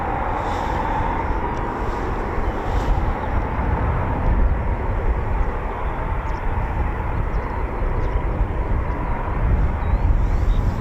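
A Eurofighter Typhoon FGR4 roars steadily as it flies over RAF Coningsby, a broad, loud, sustained jet rumble that holds for about ten seconds with little change.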